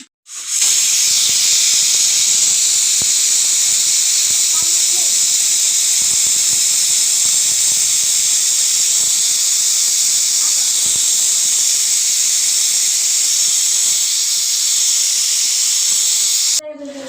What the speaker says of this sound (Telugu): three whistles